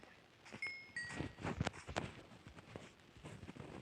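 Minecraft sheep bleats sound in short bursts among clicks and soft footsteps, with a bright synthetic chime tone near the start.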